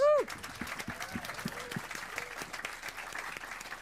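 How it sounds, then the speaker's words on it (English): An audience at the International Rooftop Knowledge Day 2022 event gives a soft, steady round of applause, with a few voices rising briefly over the clapping. "One more big applause."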